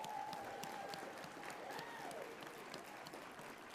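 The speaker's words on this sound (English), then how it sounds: "let's give them one more round of applause" Applause from the audience at a medical school commencement ceremony, moderately distant sustained clapping with a few sharper individual claps and faint whistling tones drifting through.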